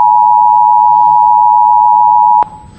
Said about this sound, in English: the only thing we did was change the attention tone for EAS